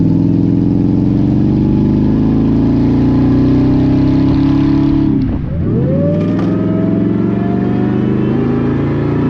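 Loud, close engine of a 2000 Ford F150 SVT Lightning with a supercharged 5.4L V8, droning steadily, dipping briefly around a gear change, then climbing again as the truck accelerates.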